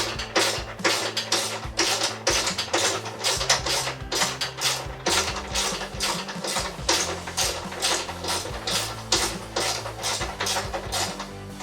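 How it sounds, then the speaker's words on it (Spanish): A Stanley ratchet, turned by hand, loosens a screw with a fast, steady series of close metallic pawl clicks that continue throughout. "una palanquita que me indica hacia qué sentido quiero que la matraca gire, ya sea para apretar o para aflojar"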